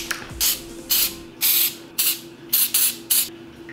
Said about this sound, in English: we're going to spray our little charcoals.